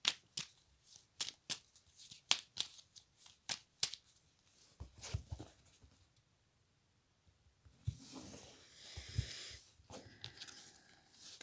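Tarot or oracle cards shuffled by hand in a burst of quick, crisp riffling snaps, then a pause and softer rustling handling of the deck, close and clear with no talk.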